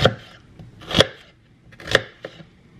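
A knife chops onions into small pieces on a board, with three sharp, distinct chops about a second apart, close and fairly quiet between strikes.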